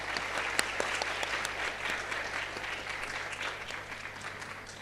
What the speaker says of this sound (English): Please, can we have a huge round of applause for Rajshri?